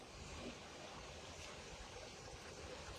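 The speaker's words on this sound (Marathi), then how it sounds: "इथून हा असा एक छोटासा धबधबा वाहत येतोय" A small waterfall stream near Kankeshwar temple in Alibaug flows as a soft, steady wash of water, with faint wind noise and no voices.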